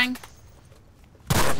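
Player gunfire in an Xbox shooter game, a tonal shot at the start, a quiet gap, then a sudden loud burst of close gunfire at the end.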